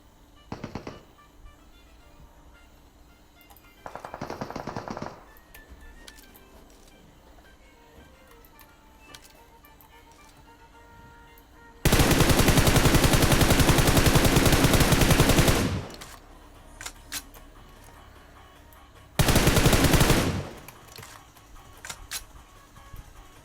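Gunfire in PUBG Mobile comes in separate bursts: a short volley early on, then a long loud stretch of rapid automatic fire, and another brief burst near the end, with quiet ambience in the gaps.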